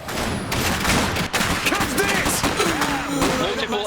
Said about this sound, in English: Heavy machine guns are a weapon system that can suppress and eliminate entire squads of infantry from a distance.